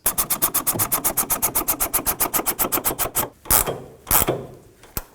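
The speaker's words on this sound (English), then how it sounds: "let's go ahead and snug up the upper nut" Ratchet wrench snugging the upper rear shock nut on a 2007-13 Toyota Tundra, a fast, even run of about thirty close clicks, then a few separate louder knocks and clunks, with no talk.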